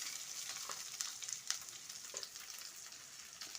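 Mustard seeds and onion fry in a little hot oil in a kadai, a soft continuous sizzle with crackly pops and a few spoon stirs, close and fairly quiet with no talking.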